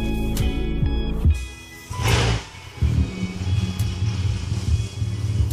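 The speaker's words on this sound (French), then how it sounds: "Alors, on va la démarrer et écouter le son au démarrage, accélérer un peu puis faire les sons à la fin." A neglected BMW 335xi engine cranks and catches, then settles into a deep, rumbling idle through a loud exhaust, with a brief sharp burst of noise partway through.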